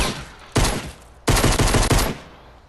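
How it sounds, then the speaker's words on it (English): An automatic weapon in the game Fortnite fires in rapid bursts, a short volley followed by a longer sustained stream of loud, closely spaced shots with no pause between rounds. "hold it down, it's going to continue firing"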